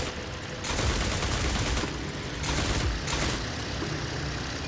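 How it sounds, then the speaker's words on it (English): Machine gun fire from a Bréguet XIV biplane in the flight sim IL-2 Sturmovik, dense rapid bursts with brief pauses, loud and close over a steady engine drone. "There's one machine gun on the side too."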